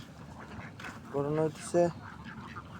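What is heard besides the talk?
ducks quacking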